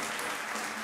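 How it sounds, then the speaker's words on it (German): Recorded applause plays back in an empty studio, a brief dense wash of clapping, steady and fairly loud. "dieser Applaus kommt vom Band"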